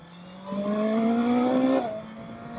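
A 2020 BMW S1000XR motorcycle engine revs up close, its pitch climbing steadily for over a second before the throttle snaps shut and it drops back to a lower idle drone.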